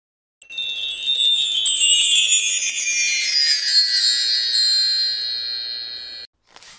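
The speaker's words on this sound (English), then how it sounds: "Chimes." Chimes ring out in one bright, shimmering strike, with high metallic tones that sustain and slowly fade over about five seconds before cutting off.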